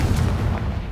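A fiery Confringo blast spell in a Harry Potter video game, a short, loud, booming explosion with a deep rumbling low end that fades quickly.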